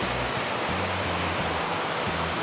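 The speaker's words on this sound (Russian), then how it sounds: "Сзади меня такой небольшой красивый водопадик" A small waterfall in Norway pours in a steady, dense rush of white water, close and unbroken throughout, with no voices over it.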